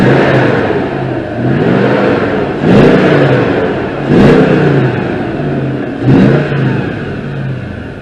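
A Mercedes CLK V8 engine just after start-up, loud and close, holding a steady idle between four sharp revs that rise and fall at roughly even intervals.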